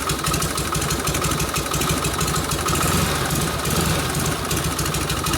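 A rust-bucket 1952 Harley-Davidson panhead motorcycle engine idles steadily and loudly up close, its rumbling, lumpy beat continuous throughout with no talking.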